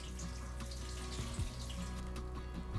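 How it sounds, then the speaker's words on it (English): Cooked noodles for a Thai red chicken curry being drained, a steady rush of pouring water like a running sink, close and continuous with no voices. "We'll start by draining the noodles."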